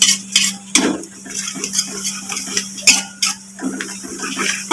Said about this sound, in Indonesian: Kita tumis saja.